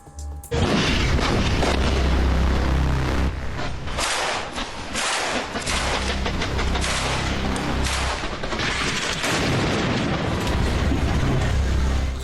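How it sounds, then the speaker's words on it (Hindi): An Israeli air strike on Gaza City produces loud, sustained booming explosions and a heavy low rumble that rolls on almost continuously, with a few sharper blasts breaking through. "इसी के मद्देनजर गाजा में एक बार फिर आईडीएफ ने किया है एक बड़ा धमाका।"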